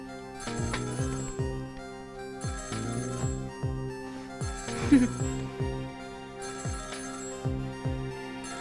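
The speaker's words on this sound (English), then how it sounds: "Oh, the phone." Telephone ringing in the video game Ghost Trick: Phantom Detective, a bright electronic bell trilling in repeated bursts over steady looping background music, with no voices.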